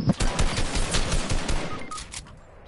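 Rapid gunfire in a console shooter game, a continuous rattling burst of shots at moderate distance that gradually tapers off, with no talk over it.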